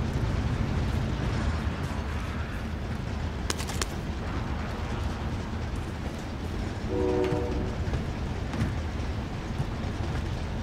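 A moving train in the Call of Duty video game gives a continuous loud rumble with metallic clatter and a brief horn-like tone partway through. No speech is heard.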